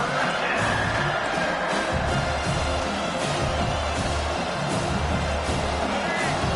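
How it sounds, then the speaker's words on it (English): A football stadium crowd at an Auburn versus Ohio State game roars continuously, a dense, loud, unbroken wall of cheering filling the whole stretch. "This crowd, full throat, splitting the eardrums and letting them know it's going to be a long day."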